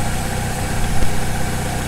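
An engine runs at wide open throttle during a fuel bypass volume test, giving a steady, loud, low droning rumble with even vibration and no talking.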